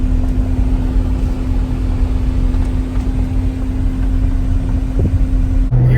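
A 2024 Chevrolet Corvette Z06 with its V8 running at steady cruising speed on track, heard from inside as a loud, constant low engine drone with a steady tone, with no one talking.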